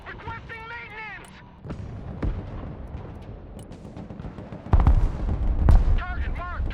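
Artillery and direct cannon fire in the war video game Broken Arrow: scattered sharp gunshots and a couple of heavy booming blasts, the loudest near the end, mixed with radio-style voice chatter and electronic chirps.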